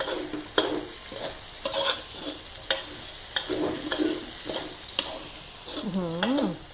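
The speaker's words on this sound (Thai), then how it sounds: "ผัดข้าวไปเลยค่ะ" Rice with bacon and ginger, seasoned with sugar and ground pepper, is stir-fried over a constant sizzle, punctuated by regular, close spatula scrapes and taps.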